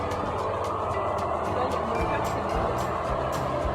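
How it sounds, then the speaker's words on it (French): A special truck maneuvers in a trailer yard, lining trailers up side by side, with a steady low diesel engine rumble and faint repeated reversing beeps mixed with broad yard noise at moderate distance. "c'est un camion spécial qui fait des manœuvres et qui range les remorques les unes à côté des autres"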